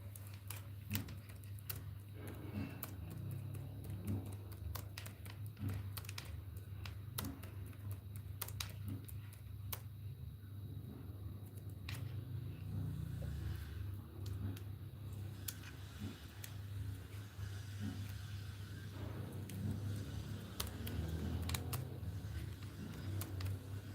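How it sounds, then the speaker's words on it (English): Typing on a laptop keyboard, a steady patter of close, light key clicks going on for the whole stretch over a low room hum, with no speech. "Let me type it on the laptop."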